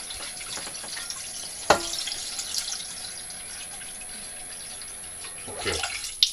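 Tap water runs steadily into a cooking pot in a home kitchen while pork goulash is prepared, a broad hiss with a sharp clank near the start and another splash toward the end.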